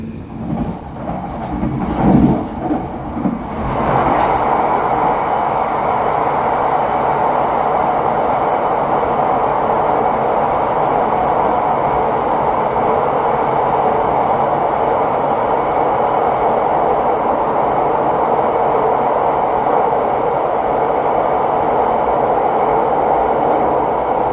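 The Argo Semeru express train speeds past at around 120 km per hour, a loud, close, sustained roar of wheels and rushing air that holds steady after a brief rising onset.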